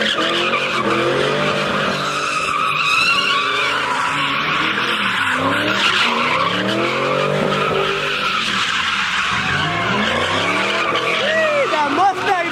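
A Ford Mustang skids at a busy car meet, a loud continuous tire squeal with wavering pitch and engine roar, swelling and sliding up close for over twelve seconds under crowd voices and shouting.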